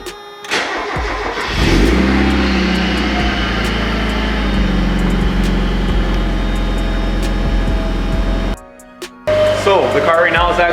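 A Mazda Miata engine cranks over and settles into a steady, loud, close idle while warming up, then briefly cuts out near the end before other noise resumes.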